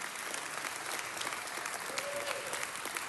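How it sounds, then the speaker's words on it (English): Audience applause fills a ceremony hall during an Italian American Heritage Month event honoring a knighthood recipient, steady dense clapping throughout with a faint brief tone partway through. "a round of applause"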